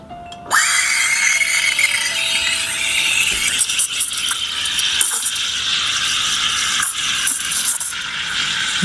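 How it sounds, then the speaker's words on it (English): An espresso machine steam wand steams milk with a loud, steady hiss and bubbling rasp that starts abruptly after a brief tone and runs continuously, close up with no talking. "and then we'll start steaming the milk."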